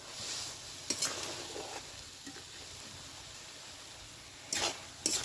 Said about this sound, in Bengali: তো আমি তেলে নেড়ে একটু